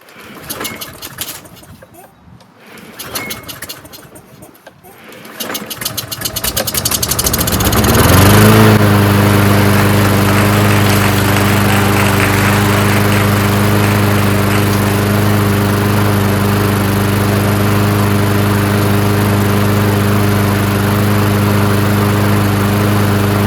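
A Craftsman push lawn mower engine is pulled over and starts, catching after a few rough tries and then settling into a loud, steady running drone that continues close by, with some speech mixed in.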